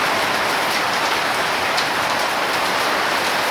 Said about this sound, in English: Yeah, it started raining.